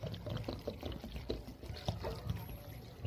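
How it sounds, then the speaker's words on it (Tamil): Water pours and splashes in uneven gulps, a near, wet sloshing that rises and falls over a few seconds, as water is added while cooking greens. "அதுக்கு தேவையான அளவு தண்ணி திட்டமாக ஊற்றிக்கலாம்."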